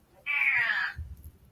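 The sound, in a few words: cat meowing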